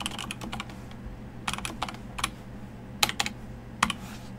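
Close computer keyboard typing while writing Delphi code for a simple logger, delivered in irregular bursts of sharp clicky keystrokes separated by short pauses over a low steady room hum.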